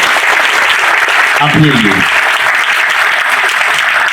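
Loud applause from a school audience at a science fest, with students and teachers clapping steadily all the way through, a brief spoken phrase rising over the clapping partway in.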